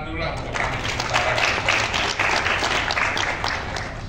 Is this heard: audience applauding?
yes